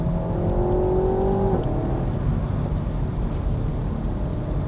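Car engine rises in pitch as the driver rolls progressively into the throttle, a steady close revving drone that climbs for about a second and a half and then settles into a rougher, lower hum.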